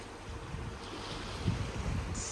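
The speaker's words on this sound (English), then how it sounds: "All you hear is water." Open water washes around a Ritz-Carlton Yacht Collection cruise yacht in Europe, heard from a cabin balcony. It is a soft, steady hiss and swash of waves with light wind, with no voices.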